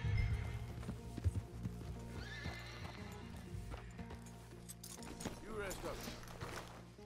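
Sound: horse hooves clip-clopping as rider stops, from video game Red Dead Redemption 2

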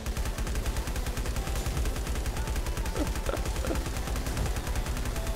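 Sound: gunfire shooting spider boss in video game LifeAfter

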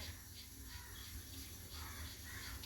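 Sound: coconut oil being poured into a cooking pot

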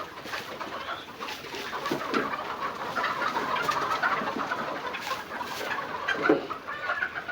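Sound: chickens clucking on a farm

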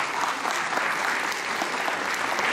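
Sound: audience applause

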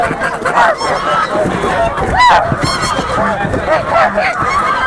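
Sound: geese honking at poultry market

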